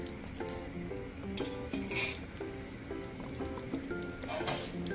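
Mutton for biryani sautéing in a pan, a continuous sizzle with repeated metallic scrapes and clinks of a spoon stirring against the vessel, close and steady.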